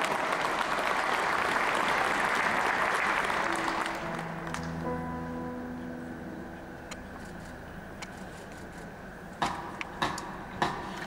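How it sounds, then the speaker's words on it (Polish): Applause for the artists at the opening of an ice arena fills the first four seconds, then fades into quieter ambience with sustained tones and a few sharp knocks near the end. "Wielkie brawa dla artystów."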